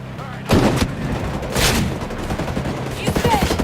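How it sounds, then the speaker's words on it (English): Sniper rifle fire in the Ghost Recon Breakpoint video game, with loud, close booming shots and rumbling blasts standing out over a dense wash of battle noise, while voices speak faintly underneath. "Sniper's about to shoot."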